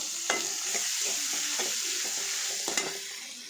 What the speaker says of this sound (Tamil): 2 தக்காளியும் நல்லா வதக்கிட்டு